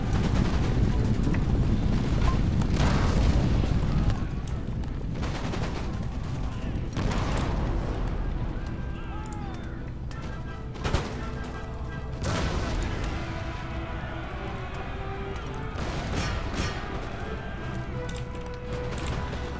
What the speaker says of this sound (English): Devastating fire from all directions.